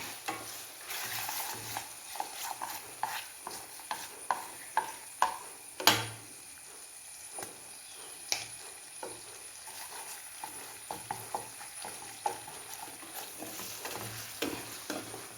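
Pork sizzling and frying in a pan with garam masala as it is stirred, with steady crackle and repeated scraping stir strokes throughout, fairly close and alone.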